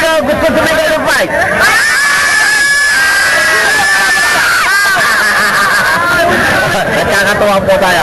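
A crowd at a local boxing rumble shouts, screams and cheers in a loud, continuous babble, with children's voices rising above the din throughout.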